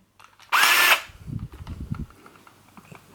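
A Black and Decker 18V hammer drill (BDH18) whirs loudly in one short burst of about half a second, followed by quieter handling clatter and a low voice.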